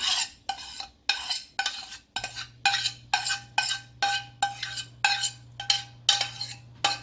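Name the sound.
mixing onion and garlic into meatball mixture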